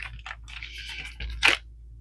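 Crunchy Amazon packaging material being handled up close, giving a few soft rustles and scrapes before one sharp, louder crunch near the end, with no talking.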